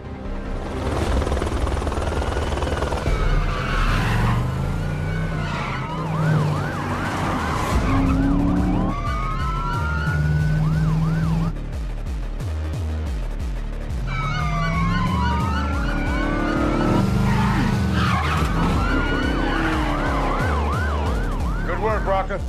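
Police sirens wail and yelp over rumbling car engines and a helicopter during a high-speed car chase, loud and continuous, with the siren sweeps rising and falling throughout.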